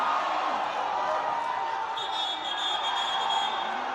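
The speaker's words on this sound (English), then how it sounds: "Can you hear the crowd, Emma?" Crowd noise at a European quidditch quarterfinal match, a steady loud roar of spectators cheering throughout, with a brief high whistle-like tone in the middle.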